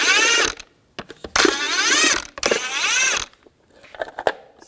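A ratchet fitted with a 22mm socket loosens cover bolts on a 2002-2006 Chevy Avalanche during front shock replacement, heard as three loud bursts of rapid clicking separated by short pauses, then lighter scattered clicks.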